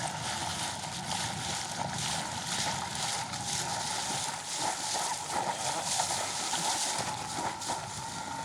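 An electric foil drive motor powers a board across open water, giving a steady whirring drone with wind and water wash blending in throughout, fairly even in level with slight surges.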